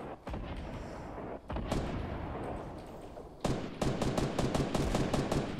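Explosions and gunfire in a Fortnite match, with grenades going off: dense booming bursts arriving in waves, with heavier impacts partway through, loud and continuous with no clear talk over them.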